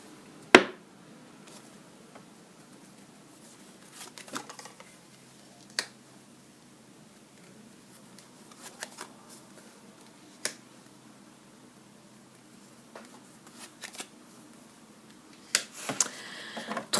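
Oracle cards are shuffled and drawn in a quiet room, producing scattered soft snaps and flicks at irregular intervals, with longer pauses between them.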